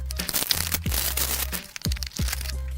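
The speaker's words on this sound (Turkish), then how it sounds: "şimdi kutuyu bir açalım bakalım içinde neler var" Someone opens the cardboard box of a Bim Kiwi baby IP camera, with crackling, crinkling packaging and a few sharp snaps, close and loud over a low steady hum, and no one speaks.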